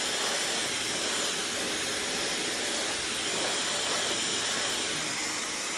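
A handheld hair dryer blows steadily while pre-drying hair for a volume blowout, a loud, constant rushing hiss of air close by with no pauses.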